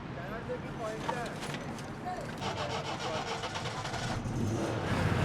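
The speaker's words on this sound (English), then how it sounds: "This is a Persian car, Iran's national car." The engine of an Iranian national car, a design nearly unchanged in 45 years, runs steadily and rises slightly in revving near the end, while people talk over the cabin noise.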